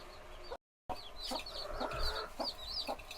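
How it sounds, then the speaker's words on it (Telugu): Chickens cluck repeatedly at close range, a busy, continuous chatter of soft calls over steady background noise. "కోడి పిల్లలు, కోడి పెట్ట"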